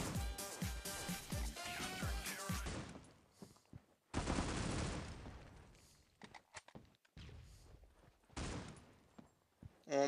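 Rapid automatic gunfire bursts from the Critical Ops mobile shooter: a dense volley at first, a second heavy barrage a few seconds later, then scattered single shots and short bursts, loud and close.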